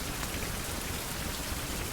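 Steady rain falls outdoors at a wilderness survival camp near a smoldering cooking fire, a dense, even hiss of drops hitting surfaces that continues unbroken, close and moderately loud, with no voices.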